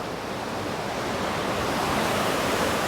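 Twin waterfall in a tropical swimming spot, a constant broadband rush of falling water, steady and fairly loud, heard alone with no voices.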